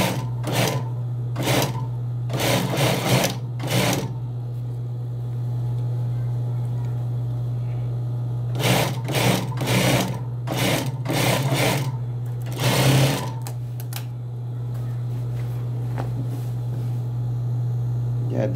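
A sewing machine stitching the front and back parts of a pair of pants, running in several short loud bursts separated by pauses, over a steady low motor hum.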